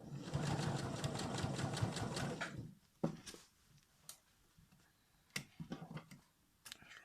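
A sewing machine stitches fabric in a rapid, even mechanical run for about two and a half seconds, then stops, leaving scattered small handling clicks and taps.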